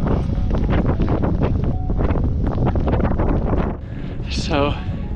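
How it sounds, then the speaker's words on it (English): Strong wind roars and buffets steadily on a cold mountain in the Pyrenees, gusting in waves, then eases briefly before a faint whistling sound. "It's very cold and very windy."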